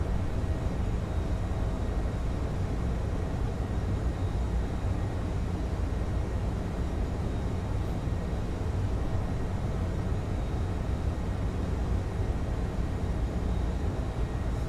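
MD-11 airliner in Microsoft Flight Simulator, a steady broadband roar of engines and airflow, continuous and unchanging at moderate level with no talk.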